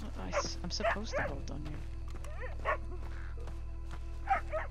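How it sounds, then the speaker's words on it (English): Short yips and barks from a dog in Red Dead Redemption 2 sound at moderate distance over a low steady hum, with someone talking across them. "That noise is the dog."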